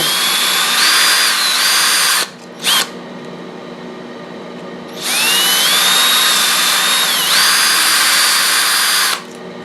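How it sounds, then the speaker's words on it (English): A power drill whines loudly at high speed, enlarging screw holes, revving up and down in two long bursts separated by a short pause. "drill the holes out a little bit bigger than what they are"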